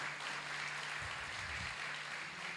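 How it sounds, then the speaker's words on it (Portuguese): Church congregation at a thanksgiving service held in a store in Aracruz, applauding together: a broad, steady wash of clapping that holds at an even level, with a low hum underneath. "Vamos aplaudir o Senhor bem forte?"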